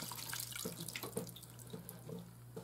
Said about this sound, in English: I'm straining a whole pan.